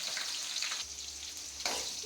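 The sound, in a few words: onions frying in oil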